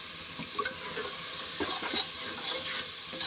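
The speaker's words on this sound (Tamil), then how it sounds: "ஏன்னா நல்லா ஃப்ரை ஆகட்டும் மக்களே, நல்லா ஃப்ரை ஆகும்" Ginger paste fries in oil with a steady, close sizzle, while light stirring strokes scrape the pan now and then and nobody speaks.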